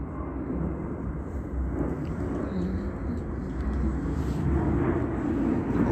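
A fixed-wing airplane flies overhead in the early afternoon, a steady broad engine drone that holds for several seconds at moderate loudness with no voices.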